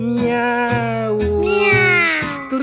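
A voice sings a long, wavering imitation of a cat's meow over a steady tango accompaniment, the drawn-out tone bending and rising loudly near the end.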